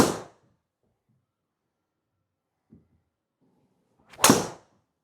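A single sharp, crisp whack of a golf driver striking the ball, close and loud, after a brief faint tap and near silence.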